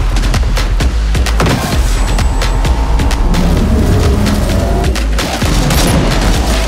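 Dense bursts of gunfire crackle and boom continuously in a Watch Dogs: Legion game trailer, with rapid shots layered over heavy low rumbles and vehicle noise, loud and close.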